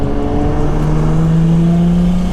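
Loud, deep drone from a single-turbo N54 car through a 3-inch resonated single-exit exhaust, a steady close-up engine tone rising slightly in pitch as it revs.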